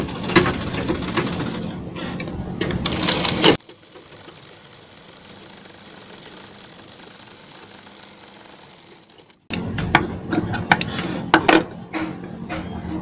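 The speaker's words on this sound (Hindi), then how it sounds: "और इस तरह इस पर सिलाई लगा देंगे इस प्रकार।" A sewing machine stitches the hem of a pair of pants, running in loud steady whirring bursts at the start and again near the end, with a quiet pause between.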